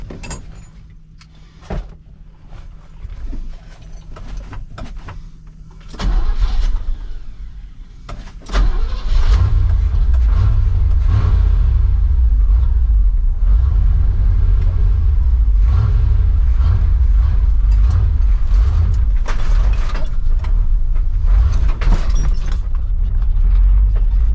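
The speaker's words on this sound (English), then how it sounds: "TBI, carbureted, driving around in the yard." A 1989 Chevy 1500 4x4 pickup with a TBI engine turns over and starts, then rumbles loudly and steadily as it drives around a yard, with clicks and clunks before the start.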